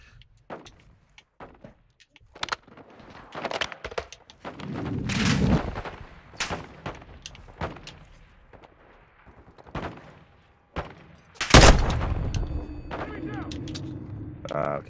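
Gunfire in the Modern Warfare 2 campaign comes in scattered sharp shots and heavier bursts, with a loud blast near the end, mixed with talk and other game noise.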